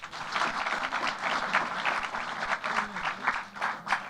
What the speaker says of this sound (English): Let's give a round of applause for Bert again.